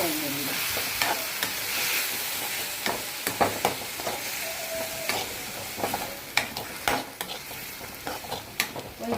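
Steady sizzling of spices tempering in hot oil for mudakathan rasam, with occasional clinks of a spoon stirring the pan, close up and without speech.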